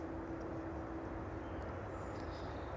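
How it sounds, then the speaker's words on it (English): A DHL Boeing 767 cargo jet arriving from JFK at East Midlands Airport in the evening, heard as a steady, broad engine roar with a low tonal hum, continuous and fairly distant throughout. "this one just arriving in now. It's the first arrival of this evening, the DHL 767 in from JFK"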